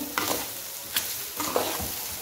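Rice browning in a hot pan for a home-cooked rice dish, with a steady close sizzle broken by a few scraping strokes of a spoon as it is stirred and turned.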